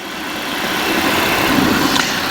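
A light aircraft engine drones steadily in flight at about 1,000 feet, a loud, close, even hum that builds slightly over the clip.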